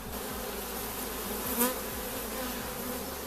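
Honeybees buzz steadily and loudly throughout an open-hive inspection, a dense continuous drone filling the space with one brief louder swell near the middle.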